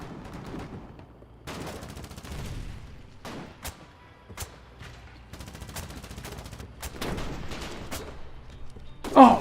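Rapid bursts of gunfire and distant booms rattle through a Foxhole war-game battle, shots overlapping in a steady barrage with a louder blast near the end.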